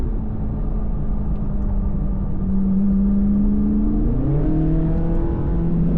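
A Chevrolet Corvette C8 Z06 drives on a race track, its engine droning loud and steady, then rising in pitch and dropping sharply with a quick gear shift before climbing again.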